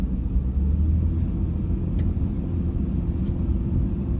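A truck drives through a small town, a steady loud low rumble of engine and road noise carrying throughout without pause.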